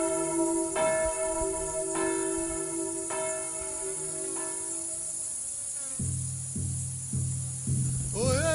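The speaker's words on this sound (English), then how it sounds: "The bell is back." A large resonant bell tolls in repeated strikes, several slow evenly spaced rings with long humming decay, then lower heavier strokes follow in quicker succession, with faint insect chirping in the background.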